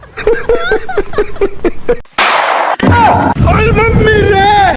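A cartoon gunshot bursts out as one loud, sharp blast between stretches of animated voices that talk before and after it.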